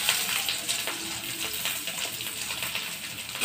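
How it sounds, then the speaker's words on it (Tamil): Medium-cut onions sautéing in a pan, giving a continuous close sizzling hiss with soft rustles and scrapes as they are stirred. "போட்டு நல்லா வதக்கிக்கோங்க"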